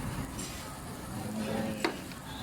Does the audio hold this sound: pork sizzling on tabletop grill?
yes